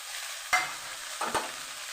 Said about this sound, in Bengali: তবে চিনটাকে আমি একটু হালকা নেড়ে চেড়ে ভেজে নিই